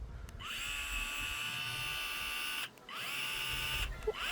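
A new cordless electric screwdriver runs with a steady high whine, close and loud, cutting out briefly and then starting up again.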